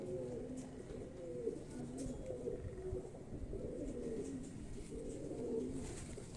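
Pigeons coo steadily in soft, repeated low rolling calls, several overlapping in a continuous murmur with a faint background hiss.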